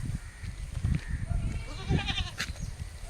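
A goat tied up in a village setting gives a bleat in the latter half, a brief, quavering cry over low rustling and handling noise nearby.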